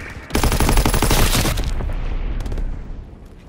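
Rapid salvo of mortar rounds fired in Call of Duty WWII, a dense burst of sharp booming impacts that fades into rumbling echoes.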